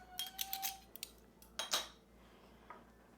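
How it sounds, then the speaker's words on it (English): A teaspoon pulled from a batch of cutlery in a kitchen: a quick run of metallic clinks and rattles up front, another louder jangle midway, then a faint final tap, quiet and close. "So I'm going to pull out my teaspoon here."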